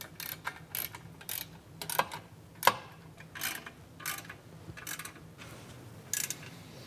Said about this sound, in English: Okay, let's go ahead and tighten those down.